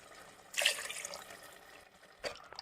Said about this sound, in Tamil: இப்போ நம்ம அரிசி ஊற வச்ச தண்ணி ஊற்றிக்கலாம்